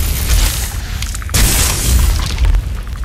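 A magic staff fires at a skeleton in the video game Skyrim. It makes a heavy booming blast with a second surge of rumbling impact partway through, loud and close, with no speech.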